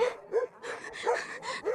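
Several dogs bark and yip in short repeated bursts at close range during a confrontation in a Hindi drama, the barks overlapping in quick succession with no talk.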